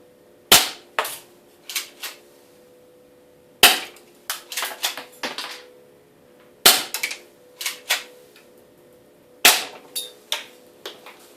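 Airsoft gun shots hitting an indoor target: four sharp loud cracks, each followed by a few quick metallic clatters and rattles, spaced roughly three seconds apart, close by with no talking.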